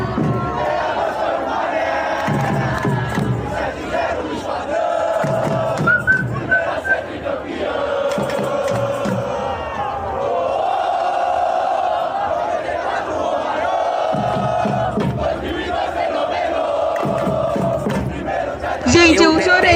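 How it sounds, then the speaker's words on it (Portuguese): Crowd of football fans in Times Square celebrating a World Cup result, loud massed cheering and chanting with whistles and shouts, voices swelling and surging throughout. "A torcida estava lá na Times Square, celebrando."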